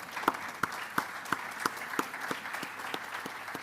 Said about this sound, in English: So, an applause.